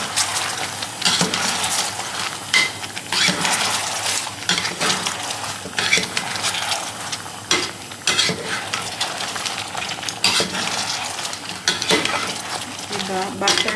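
Butter shrimp sizzle and fry in a pan while a utensil stirs and scrapes, with loud continuous crackling and frequent clinking against the metal.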